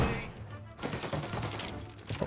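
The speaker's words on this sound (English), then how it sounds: "Tommy guns." Tommy guns rattle in Mafia: Definitive Edition, with a dense, loud stretch of continuous automatic fire and sharp crackling shots running throughout.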